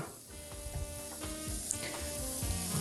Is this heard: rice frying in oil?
yes